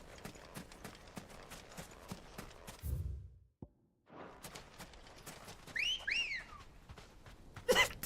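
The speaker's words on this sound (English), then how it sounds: "Did you need that whistle, Clive?" Clive whistles for his chocobo Ambrosia in Final Fantasy XVI: a short two-note whistle rises near the middle, set among steady clip-clop hoofbeats and game ambience, followed by a brief bright chirp at the end.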